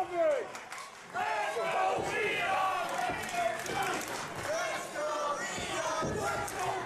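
Crowd at an FSW High Octane pro wrestling match chanting and cheering in rhythmic bursts, loud and close, with a commentator talking over the noise.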